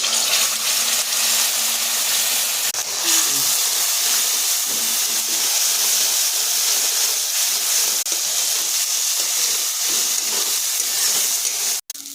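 A spice paste of ginger, cumin and cardamom frying with onions in oil, giving a steady loud hiss and sizzle that continues without a break.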